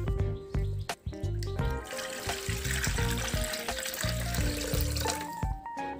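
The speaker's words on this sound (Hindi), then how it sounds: "सबसे पहले इसमें हम पानी डालेंगे।" Water is poured into a burnt pan with a continuous splashing, filling rush close by, alongside faint tonal sounds.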